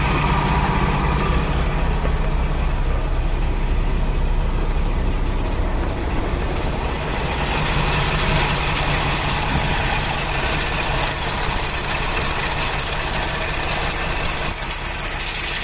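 A truck's Paccar MX-13 engine idles with a steady rumble and a faint whirring, rattling mechanical noise from a faulty pulley on top, continuous and close throughout.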